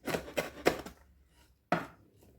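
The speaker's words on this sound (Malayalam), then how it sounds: "പച്ചമുളക് ചെറുതായിട്ട് ഇതുപോലെ കട്ട് ചെയ്തെടുത്തു." A knife finely chops green chillies on a board, three quick close taps, a short pause, then one more sharp tap, with no talk.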